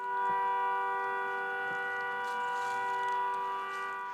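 An air raid siren sounds during an alert in a Ukrainian town, a steady sustained wail with stacked tones that holds level throughout, with faint background noise.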